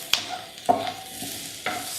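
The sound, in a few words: stirring garlic in a hot pan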